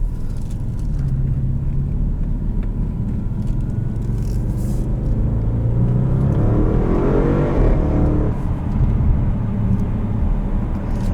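A 2014 Audi RS7 Prestige revs and accelerates from inside the cabin, its engine a loud, steady rumble that climbs in pitch and swells as it pulls hard, then eases.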